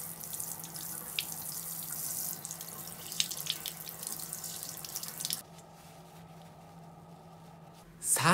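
Tap water runs steadily over AVIOT TE-D01gs wireless earbuds being rinsed, a close splashing stream that stops partway through, leaving quiet room tone before a brief knock at the end.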